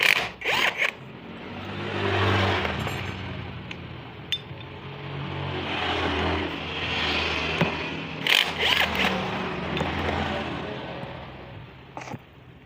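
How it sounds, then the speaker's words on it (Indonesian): Impact wrench loosening the seal clamp bolts on a motorcycle engine in a workshop, giving metallic ratcheting and clinking with scraping through the clip, bursts near the start and again toward the end, and no voices. "Biar lebih cepat mudah menggunakan impact."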